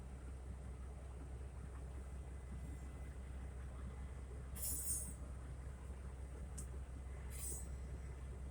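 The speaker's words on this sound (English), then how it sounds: "I'm watching them reconnect this train." Low rumble of an idling Union Pacific train in a rail yard as cars are reconnected, a steady deep engine drone with a few brief high metallic squeals and hisses, heard from close by.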